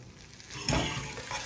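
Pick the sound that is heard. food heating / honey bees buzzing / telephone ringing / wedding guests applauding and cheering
food heating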